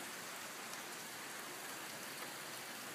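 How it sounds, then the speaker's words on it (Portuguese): Steady rain falls onto a surface, a dense even hiss of drops that holds at one level throughout, with no voices. "Chuva, seja bem-vinda."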